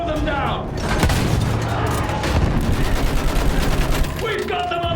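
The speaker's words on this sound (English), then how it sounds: "Use that machine gun! Mow them down!" Machine gun fire in a battle scene, dense rapid bursts with booming impacts throughout, loud and close, with shouting voices mixed in over the clatter.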